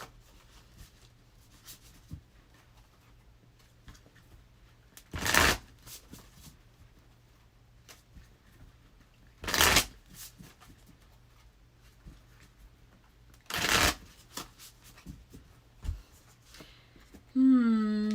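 Three separate riffling bursts of tarot cards being shuffled, spaced several seconds apart, with quiet handling sounds between and a brief voice at the end.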